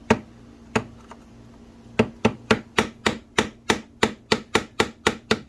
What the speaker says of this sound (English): Take your ball peen of your choice.